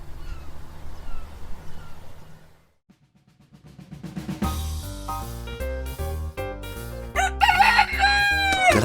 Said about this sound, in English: That's one of my early spirit animals, the rooster.